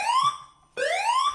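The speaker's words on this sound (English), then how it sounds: "I'm going to be taking the sounds from the fire alarm test" Fire alarm system test warning tones, two loud rising electronic sweeps with a short gap between them, close and clear with nothing else underneath.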